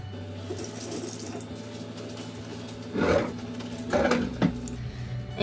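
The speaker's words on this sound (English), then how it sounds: "I'm going to rinse my fingers off since I have raw egg on my hands." Water runs from a kitchen tap to rinse raw egg off fingers, a steady stream with louder splashing bursts as hands move under it, no talking.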